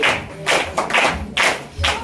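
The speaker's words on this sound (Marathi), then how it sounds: "या गावासाठी टाळ्या वाजवा" A crowd in a village school gathering claps in short bursts, several rounds of applause rising and falling close by, no speech over it.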